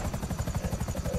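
A modified Havoc attack helicopter in a video game throbs with steady, fast rotor chop, a loud continuous pulsing beat up close with no talk.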